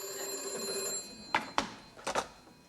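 An old-fashioned telephone bell rings in a few short sharp bursts, sounding fairly faint against a steady background hum.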